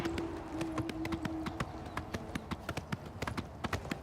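Horse hooves in the video game Oblivion, a rapid, steady clip-clop of galloping over hard ground, fairly quiet and continuous, with the beats growing sharper toward the end.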